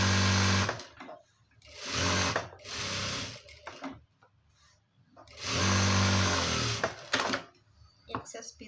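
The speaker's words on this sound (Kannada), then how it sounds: "ಒಂದು ಸ್ಟಿಚ್ ಹಾಕೋಣ." A sewing machine stitches fabric in two long loud runs with shorter bursts between them, each stopping abruptly, and a person speaks quietly in the pauses.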